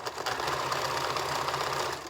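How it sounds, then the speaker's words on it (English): A sewing machine runs steadily and close, top stitching the open edge of a fabric bin closed. A single continuous whirring run of stitching lasts the whole stretch without stopping, and no voices are heard. "I'm just going to top stitch this closed"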